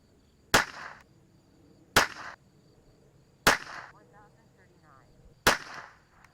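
Four sharp .22 LR rifle reports from Eley Bullseye Pistol X 40-grain match ammunition, evenly spaced about a second and a half apart, each a crisp crack with a short ringing tail, close and loud against a quiet background.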